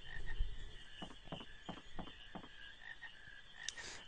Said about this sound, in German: Das ist einfach nur Frösche.